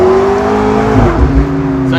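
A convertible sports car's engine revs loudly and close by, a steady droning tone with shifting harmonics and a couple of brief low thumps, with no talking.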